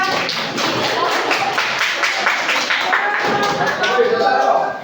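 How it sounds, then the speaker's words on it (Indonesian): Classroom applause for a student group during a university teaching-practice exam, a steady patter of many hands clapping close by, with voices talking over it. "tepuk tangan untuk kelompok 2"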